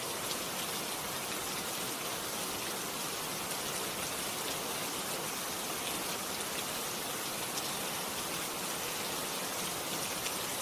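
Steady rain falling, a dense, even hiss of drops pattering on surfaces without pause, constant in level throughout with no voices.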